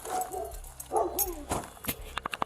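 Several dogs bark a short distance away in bursts, followed by a quick run of sharp yips, somewhat muffled, with no one speaking.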